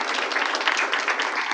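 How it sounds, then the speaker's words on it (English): Audience at a school board meeting applauding student musicians, dense continuous clapping from a roomful of people, close and steady throughout. "And one more applause for these guys."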